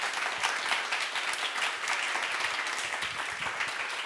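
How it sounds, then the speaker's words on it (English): An audience at a talk on company content moderation breaks into steady applause, dense sustained clapping that holds at an even loud level throughout without a clear peak or fade. "Can I get a round of applause for these two awesome folks?"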